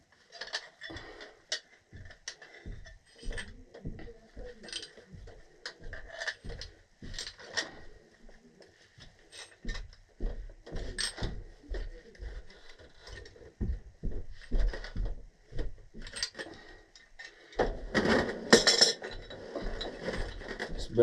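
A wrench tightens a fitting on a gas valve during an HVAC repair, making a long run of irregular metallic clicks and ratcheting ticks that are moderately close and fairly quiet, with a denser burst of noise near the end.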